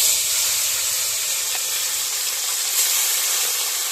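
A freshly caught fish frying in hot oil, giving a loud, steady, close sizzling hiss that stays even throughout with no voices.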